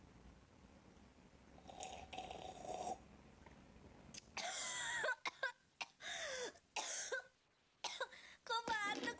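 Muffled sounds lead into several harsh, close coughs in irregular bursts, broken by brief pauses, with a voice straining between them.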